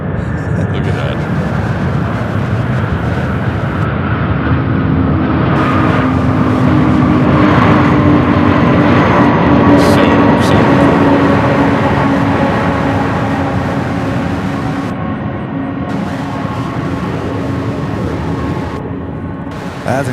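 Jet airliner landing at Louisville International Airport and rolling out with its nose wheel held off the runway, a loud, sustained roar with rising engine tones across the whole stretch, while people talk over it.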